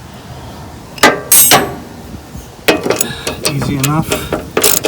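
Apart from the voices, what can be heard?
ratchet wrench removing 1/2 inch bolts on mower deck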